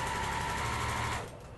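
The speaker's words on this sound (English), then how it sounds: "I'm going to sew with a 1/4-inch seam, and I use a 1/4-inch foot on my sewing machine" A sewing machine stitches quilt fabric with a 1/4-inch foot, a fast, close, steady mechanical whir that runs continuously for about a second and then stops abruptly.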